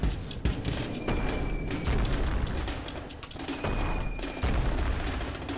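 Enemy guns fire in the video game Ape Out in loud, dense volleys of booming shots with a constant rumbling bed beneath them, broken by brief gaps.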